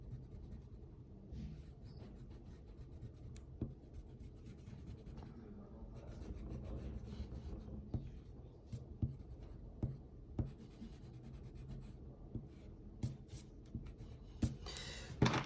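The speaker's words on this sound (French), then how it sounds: "on peut gommer le crayon tranquillement" A rubber eraser rubs over pencil lines on paper, a faint, close, soft scratchy scrubbing with small rhythmic strokes that become more distinct toward the end.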